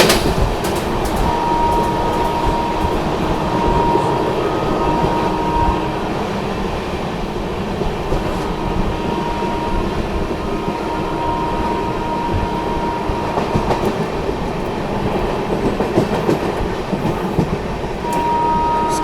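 The Sealdah New Delhi Rajdhani Express runs through Chunar Junction without stopping, giving a continuous loud rumble of rolling wagons with rhythmic clickety-clack from the wheels over rail joints, heard close up.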